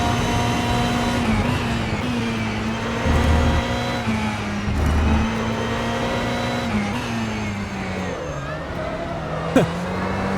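A GTE race car engine in the rFactor 2 racing simulator revs and shifts pitch continuously, with rising and falling tones through gear changes, loud and close with no voices.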